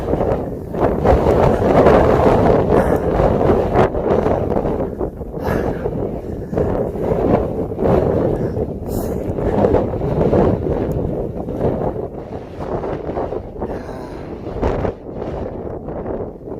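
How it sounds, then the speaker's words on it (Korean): Strong, gusting wind roars and buffets the microphone during a rainstorm on Sobaeksan mountain, a continuous loud rushing that surges and eases over many seconds, with no voices heard. "얼마나 바람이 세게 부는지"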